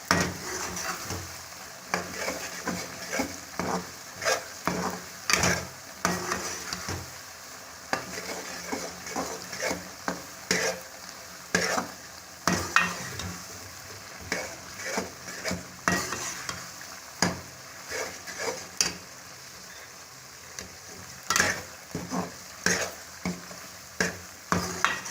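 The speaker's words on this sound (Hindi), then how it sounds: "तो मसलसल चम्मच हिलाना है इसको" A spoon stirs Mianwali kamakhandi halwa in a pan without pause, giving repeated close scraping and clinking strokes in an uneven rhythm over a low frying sizzle, with no talking.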